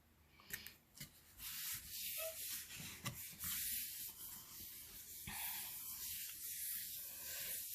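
Gentle rubbing on a paper card during Stampin' Up! Magic Slider card making, a soft continuous scratchy brushing close up with a few light taps at the start, steady throughout and alone.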